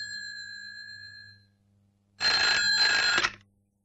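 A telephone rings in a 1991 Hindi crime film, first a steady sustained tone that fades, then after a short silence a loud, bright burst of bell-like ringing for about a second.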